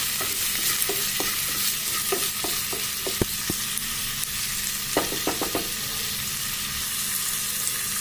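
Onions frying in a pan with salt added for a kochu ghonto: a steady soft sizzle runs throughout, broken by clusters of sharp clicks and scrapes from a spoon stirring against the pan, close and clear with no voices.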